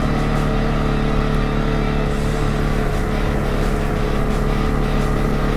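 A 2022 CFMOTO CForce 625 ATV engine drones steadily while driving, with a constant loud mid-range hum and tire roar close to the listener.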